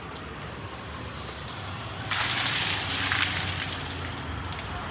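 A steady wash of flowing water in a place with lots of water, starting abruptly partway through and staying loud and close, with faint chirping early on.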